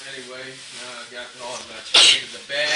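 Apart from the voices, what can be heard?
sneeze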